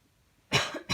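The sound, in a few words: cough and sniff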